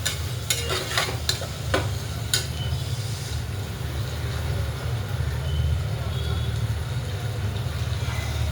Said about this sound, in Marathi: मॅप्कोचा वाटाणा आहे, तो टाकून घेते तेलामध्ये. एकजीव करते.